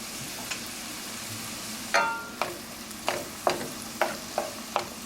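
Fennel stalk sautés in a pan under a soft, steady sizzle, punctuated by a series of sharp, evenly spaced taps and scrapes of a utensil against the pan.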